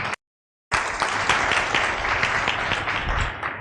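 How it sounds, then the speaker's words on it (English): A conference hall audience at an evidence summit applauds a presenter, starting abruptly after a moment of silence and continuing as steady, fairly loud clapping throughout. "A round of applause for Nana."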